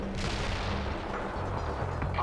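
Mortar strike explosions from the World in Conflict video game, a series of heavy booming impacts rumbling under steady battle noise.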